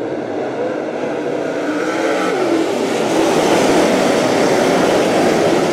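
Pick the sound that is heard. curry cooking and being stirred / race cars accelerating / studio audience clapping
race cars accelerating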